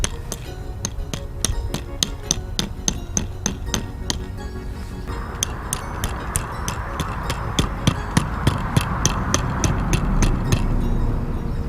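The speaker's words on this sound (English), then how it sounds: "Use the back of it for a hammer" The back of a 16-inch camping axe hammers a tent stake in a long series of sharp, evenly spaced metallic strikes, loud and close, with a louder background hiss in the second half.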